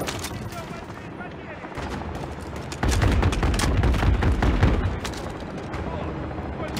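Rapid mounted machine gun bursts from an armored vehicle in Call of Duty MW3, a dense rattle of gunfire and booms that swells louder midway, with game chatter faintly beneath.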